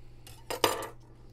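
A knife prying open the small rubber charge-port cover on a WALLKE F1 e-bike, a brief close metallic scrape and click lasting under a second against a quiet low hum.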